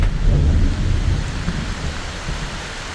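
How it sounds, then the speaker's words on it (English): Heavy rain pours steadily on an abandoned shack while deep thunder rumbles close by, loud at first and slowly easing off. "the rain is coming a little bit, and it's coming from that way, like straight in"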